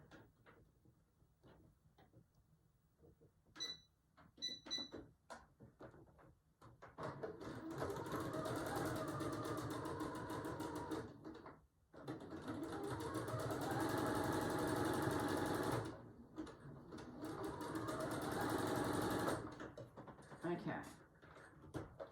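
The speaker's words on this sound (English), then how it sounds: "run a zigzag stitch across that" A domestic sewing machine runs a zigzag stitch across layered fabric for a junk journal, a loud steady mechanical whirring in two long runs broken by a brief pause, preceded by a few clicks and handling taps.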